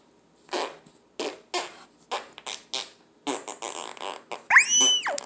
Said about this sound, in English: Hear my farts.